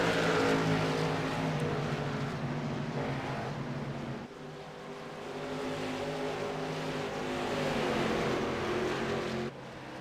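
Onboard Brian Bianchi's number 5 short track race car: a loud, continuous engine howl that rises and falls as it is driven through the corners, dipping briefly when the throttle lifts.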